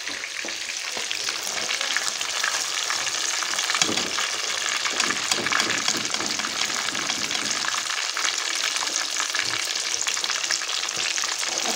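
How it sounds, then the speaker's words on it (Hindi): Chicken pieces sizzling in hot ghee, a loud, continuous crackling fry with occasional stirring and scraping, close up and with no voices. "चिकन पीस को अब मैं निकालूंगी, फ्राई हो चुके हैं।"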